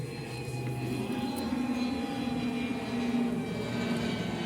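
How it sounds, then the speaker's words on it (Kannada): An airplane passes overhead in a forest, a steady low droning engine rumble with a faint whine, fairly distant and continuous, with no voices. "ಫ್ಲೈಟ್ ಹೋಗ್ತಿದೆ ನೋಡಿ ಫ್ರೆಂಡ್,"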